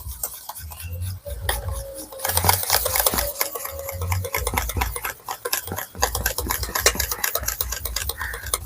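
Eggs mixed with black cumin are whisked briskly in a bowl, giving a quick, rhythmic series of close clinks and scrapes that run on in bursts with short pauses and no talking.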